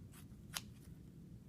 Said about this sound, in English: And then you cut the rest of the roll off.